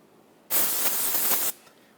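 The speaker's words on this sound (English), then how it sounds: "We'll use parts cleaner directly on a rag." A single one-second burst of parts cleaner sprayed from an aerosol can onto a rag, loud and close with a sharp hissing onset and cutoff, in a workshop during Ford F-150 rear wheel seal work.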